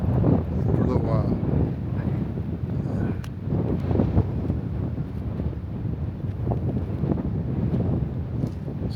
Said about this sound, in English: got a good stiff breeze, just what you need